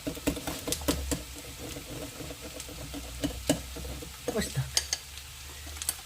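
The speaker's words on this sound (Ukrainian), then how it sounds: "тут у нас гарно все просмажується" Batter for egg dumplings frying in a pot, a steady sizzle under repeated scraping and clinking of a utensil stirring against the pot, close and fairly loud.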